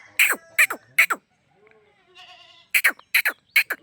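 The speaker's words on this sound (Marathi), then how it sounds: "बघा इकडे शेळ्या कशा बसल्या" Goats bleat in short, sharp bursts, three in quick succession, then a quiet pause with soft murmuring, then another rapid cluster of loud, close calls.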